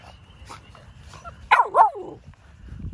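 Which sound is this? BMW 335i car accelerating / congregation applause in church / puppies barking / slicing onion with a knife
puppies barking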